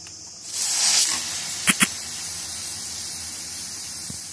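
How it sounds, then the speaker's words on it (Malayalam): A pressure cooker cooking pongal on the stove gives a steady hiss of escaping steam that swells loudly for a moment, then settles into a constant lower hiss. Two short sharp knocks break in partway through. "ഇപ്പോൾ ആവി പുറത്തോട്ട് വന്നു തുടങ്ങിയിട്ടുണ്ട്"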